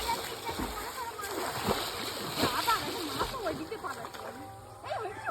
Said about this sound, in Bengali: ওই দেখ মাছটা কিরকম লাফিয়ে গেল